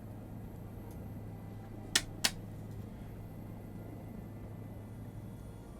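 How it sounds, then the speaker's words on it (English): Engine of an H120 Colibri helicopter in Microsoft Flight Simulator keeps running after its fuel is cut, giving a low steady hum with two sharp clicks near the middle, faint and without speech. "So, the fuel's cut off, but my engine's still going."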